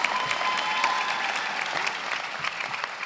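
Steady, dense applause from a commencement audience at a 2014 law school graduation, filling the hall at even strength for the whole stretch with no speech over it.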